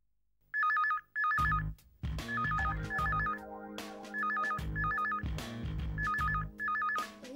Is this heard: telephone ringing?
yes